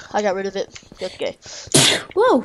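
A person sneezes once with a sharp, loud burst while friends play Minecraft together, surrounded by lively chatter and exclamations before and after.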